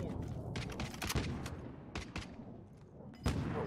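Sniper gunfire in Call of Duty Black Ops Cold War Warzone: several sharp distant cracks scattered across a few seconds over game ambience, irregularly spaced, with a louder shot near the end.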